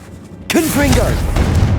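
A Confringo blasting spell is cast in Hogwarts Legacy: a sudden booming burst hits at once after a short quiet stretch, followed by a sustained crackling, rumbling spell effect with whooshing tones above it.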